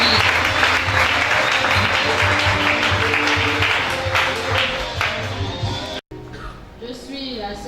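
A church congregation at a prophetic service applauds loudly and continuously, a dense close wash of clapping that fades near the end, followed by a brief gap and quieter sounds.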